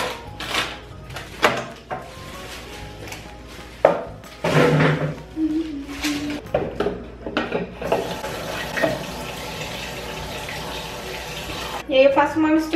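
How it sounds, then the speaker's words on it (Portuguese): Water runs from a bathroom sink tap to wet a sponge mixed with detergent during a cleaning session, a steady close rush under intermittent clatter and handling knocks. "vou molhando a esponja pra poder esfregar aqui a pia"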